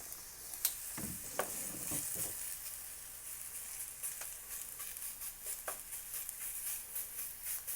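Beef cooks in a little oil in a pan, giving a faint, steady sizzle with occasional soft ticks and pops, low and unbroken throughout.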